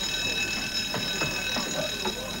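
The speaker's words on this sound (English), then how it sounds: "that is the alarm bell" A repeated electronic ship alarm bell rings steadily, with a series of short pulsing bursts underneath, fairly loud and without talking.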